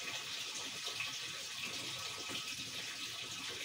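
Water running steadily from the small drain tap of a mini washing machine in a motorhome, a continuous close splashing gush with no speech.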